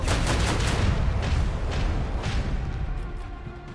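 Macro cannon salvo from a warship in the video game Warhammer 40K: Rogue Trader, a dense run of loud booming gunfire blasts that rolls on continuously and eases off slightly toward the end, with no talking.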